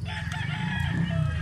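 A white Kelso stag rooster, a pikom-combed talisayon, crows in one close, sustained and strained call that stays loud throughout.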